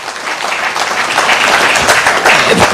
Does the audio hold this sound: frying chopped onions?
no